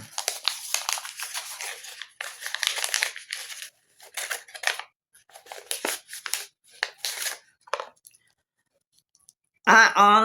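Jewelry packaging being torn and crinkled by hand, close-up bursts of rustling, ripping and crackling in uneven clusters separated by brief silences, ending with a louder rough tear.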